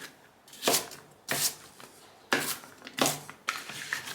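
A knife chops through raw pumpkin for soup in five firm, evenly spaced cuts, each a crisp thud close by with a short rasping tail, with no talk.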